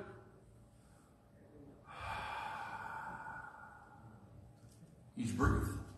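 A voice imitates a sleeping man's breathing: a slow, heavy breath in, a long exhale, then a loud snorting snore, close and alone without talk.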